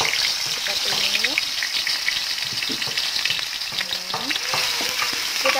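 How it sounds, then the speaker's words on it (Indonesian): Ground spice paste stir-fried in hot oil, a steady dense sizzle and crackle with occasional spatula scrapes, close and continuous throughout. "Ini tadi bumbu yang sudah kita haluskan ya, ini akan kita tumis teman-teman."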